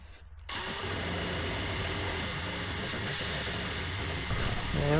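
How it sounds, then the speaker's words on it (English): Electric drill spinning an arbor to clean up the cut edge of a metal heater pipe for a VW Splitscreen, a steady loud whine that runs continuously after a short quiet start. "So these little arbors that you can fit on the drill, they'll take out aluminium or steel."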